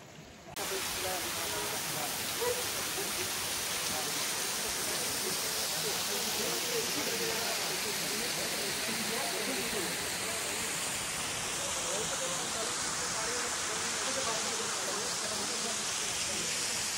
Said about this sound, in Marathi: त्याच्या पुढे ते छोटासा धबधबा आहे.